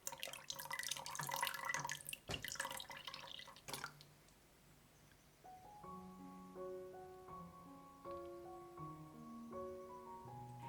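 Diluted nigari coagulant is poured gently into soy milk, a close, splashy liquid rush for the first few seconds, after which soft melodic tones take over with no voices.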